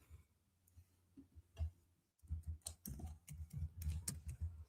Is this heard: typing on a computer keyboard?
yes